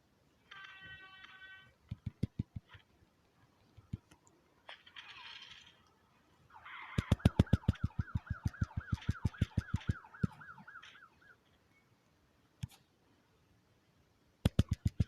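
Police sirens wail in the Rope Frog Ninja Hero video game, a wavering electronic siren tone over a quick run of sharp rhythmic clicks and thumps, with short game beeps and hits before and after.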